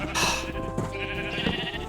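Sheep bleat in the Minecraft game, a flock giving a few overlapping cries, moderately loud, over a steady background hum with no talking.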